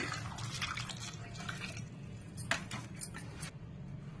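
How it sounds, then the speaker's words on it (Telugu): Water runs and splashes steadily into a cooking vessel holding potatoes to be boiled, with a low hum underneath and a few sharper drips and splashes near the end. "వాటర్ పోసుకున్నాను."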